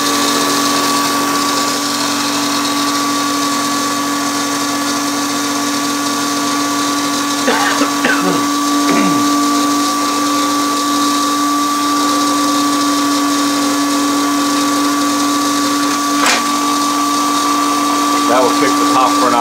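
A 1950s Popperette popcorn machine motor runs dry with a steady, loud electric hum and whine throughout, with a few brief clicks and knocks from the mechanism and someone talking over it.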